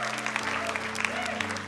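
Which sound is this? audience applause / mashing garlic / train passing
audience applause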